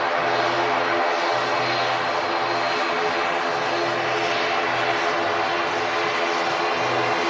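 Airbus A380 airliner approaching to land at Manchester Airport, a steady, loud engine roar with a low rumbling throb that holds evenly throughout, no voices over it.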